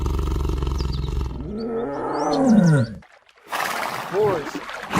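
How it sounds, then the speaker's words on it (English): Tiger roaring loudly and close, a deep rumbling growl that swells into a full roar, then a pause and a second shorter snarl. "tiger, tiger,"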